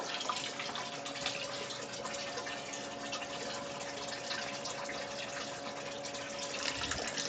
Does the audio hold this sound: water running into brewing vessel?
yes